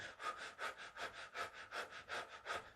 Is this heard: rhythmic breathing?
yes